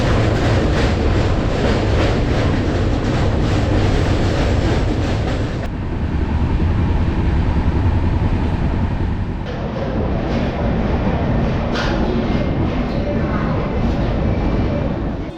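The Kanyakumari Pune Express rolls along the rails with a steady loud rumble and rattle of carriages, continuous throughout, the tone shifting slightly midway as the surroundings change.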